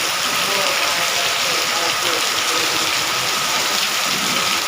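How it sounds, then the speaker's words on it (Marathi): Heavy morning rain pours down in a steady, dense hiss of drops striking surfaces, continuous and loud throughout with no break. "तर बघा अशा प्रकारे सकाळचा पाऊस चालू आहे जोरदार"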